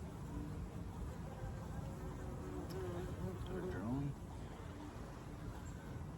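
Honey bees buzzing around a beekeeper at an open hive in August, a continuous quiet drone with individual bees passing close and bumping against him, while he talks softly over it.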